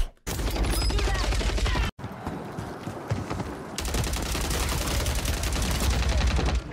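Gunfire in the Warzone video game, rapid bursts of close shots that break off for a moment and then start up again, with busy battlefield noise behind them.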